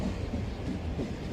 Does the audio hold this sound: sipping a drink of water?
no